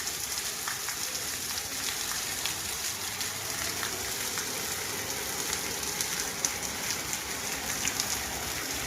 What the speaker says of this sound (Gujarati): બારોબાર એવો વરસાદ જાયમો કે વાત જવા દઉં.